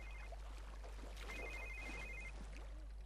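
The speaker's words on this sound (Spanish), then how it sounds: "vamos a responder al teléfono" A telephone rings inside The Sims 3, giving two short bursts of a steady electronic trill over faint background game noise.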